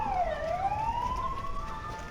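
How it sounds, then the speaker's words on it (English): Police sirens wail in the video game The Supper: New Blood, closing in on a motel; a loud, continuous siren tone sweeps down and then slowly rises, with other siren lines layered over it throughout. "I hear many sirens approaching the motel"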